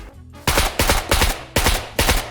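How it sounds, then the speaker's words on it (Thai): In the SCUM video game, a robot fires its gun at the player in five loud, close bursts of gunfire spaced about half a second apart, each a sharp crack followed by a rattling tail. "แม่งยังไม่เข้าระยะเลยแม่งยิงละ"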